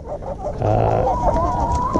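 A flock of hens with a tiny rooster gives close, loud, nasal clucks and drawn-out honking calls that overlap one after another.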